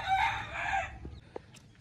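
Chickens on a country chicken farm, with a rooster crowing in a drawn-out call at moderate distance, followed by a few faint clucks and scattered farmyard sounds.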